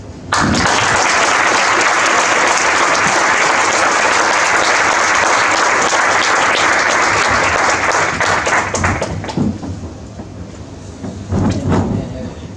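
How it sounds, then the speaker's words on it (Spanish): A conference audience gives a long round of applause to a speaker before an inaugural talk on conservation and tourism, loud and sustained for about nine seconds, then thinning out as a few murmurs and stray noises follow. "os pido un gran aplauso antes y luego después no lo voy a tener que pedir"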